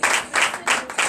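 A church congregation at a Sunday service claps in rhythm, four loud, evenly spaced bursts of many hands in about a second.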